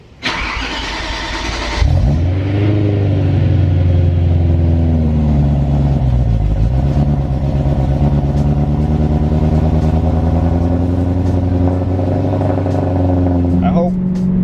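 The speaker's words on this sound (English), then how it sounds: "I'm gonna get the car started up, warmed up, and we'll head right over there." A BMW M3 lowered on Eibach Pro springs cranks and fires after a short burst of noise, then settles into a loud, steady, close idle with a brief blip in revs partway through.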